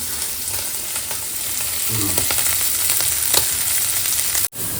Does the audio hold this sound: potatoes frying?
yes